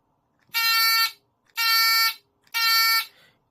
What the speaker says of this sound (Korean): 제가 이 뒤에 있는 푸시 버튼을 눌렀을 때 소리가 나는 것을 확인해 볼 수 있겠습니다